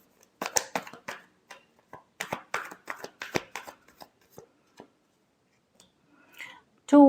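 Tarot cards are shuffled in quick papery bursts, riffling and slapping in clusters near the listener, then fall quiet before a final short clatter.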